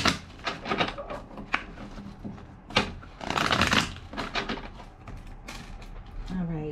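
Quick papery riffling bursts from a deck of cards being shuffled, a few separate shuffles close by, with a longer riffle in the middle.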